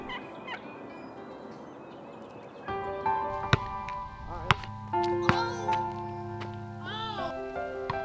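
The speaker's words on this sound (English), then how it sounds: "To hear him gobble and spit drum is an incredible experience." A wild turkey gobbles repeatedly nearby, with sharp clucks and other bird calls layered over a quiet outdoor background in spring.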